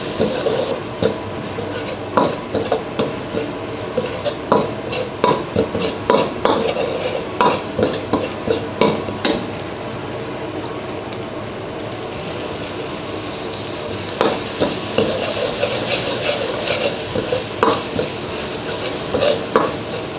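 Thai curry paste frying with coconut milk for a gaeng tepo curry, a loud close sizzle with rhythmic, repeated spatula strokes clanking on the pan, briefly quieter midway before the hiss swells again.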